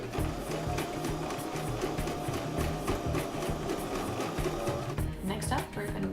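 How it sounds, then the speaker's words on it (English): Sewing machine stitching a bolero garment, a steady rapid mechanical chatter that runs the whole time at a fairly even level, with a brief dip near the end. "Now I'm going to start sewing."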